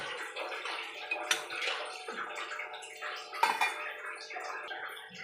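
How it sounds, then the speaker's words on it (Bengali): Water pours into a pan of ilish fish curry cooked with sour yogurt, splashing and gurgling up close, with a few light metallic clinks of utensils against the pan. "এবার আমি এখানে জল দেবো"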